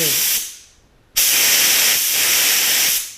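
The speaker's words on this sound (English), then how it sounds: "so we're blowing 125 psi through here, and I put a little bit of lacquer thinner in there" A $5 estate-sale paint spray gun blows 125 psi compressed air with a little lacquer thinner, giving loud, close hissing bursts: a short blast, a brief pause, then a long sustained spray with a slight dip partway through, no speech.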